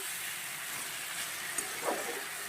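Tengra fish masala frying in oil in a home kitchen pan, a steady faint sizzle and hiss with a couple of soft stirring clicks.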